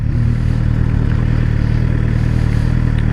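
A Suzuki GSX-R600 motorcycle engine drones loudly and steadily while riding, a constant low mechanical hum with wind rush and no pauses, heard close from the rider's position with no talking.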